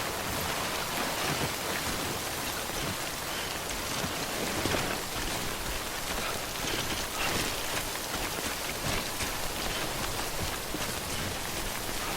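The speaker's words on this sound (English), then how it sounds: "Don't stay out in the rain any longer than you have to." Timefall rain pours in the video game Death Stranding, a dense, steady hiss of falling rain that stays constant throughout, loud and close, with no talking.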